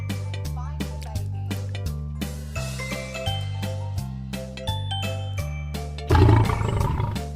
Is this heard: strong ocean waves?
no